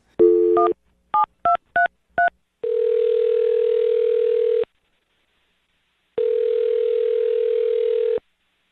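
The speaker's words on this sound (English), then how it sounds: "I'm dialing the phone number." A telephone number being dialed: one longer touch-tone burst, then four quick separate keypad tones, followed by two long, steady ringing tones with a pause between them, loud and clear with no voices.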